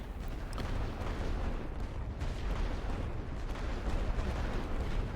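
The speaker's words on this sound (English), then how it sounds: "I'm going to drop heavy artillery on them." Heavy artillery fire in the World War I game The Great War: Western Front, a dense, continuous rumble of distant booms with faint sharper cracks layered on top.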